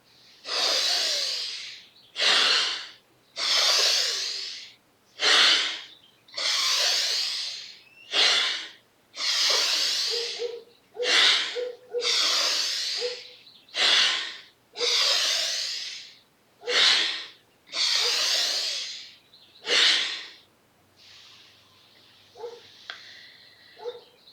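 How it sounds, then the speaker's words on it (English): Deep belly breathing in and out, a series of loud, forceful inhales and exhales in a steady alternating rhythm close to the microphone, with no talking. "breathing in through the belly and up, and out through the belly and up"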